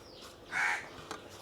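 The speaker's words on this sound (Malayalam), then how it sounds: "കാക്ക കിടന്ന് ഭയങ്കര ശല്യമാണല്ലോ." A crow caws in a single harsh call near the middle, standing out above a quiet outdoor background while masala is mixed for a tuna fish dish, with a faint second call soon after.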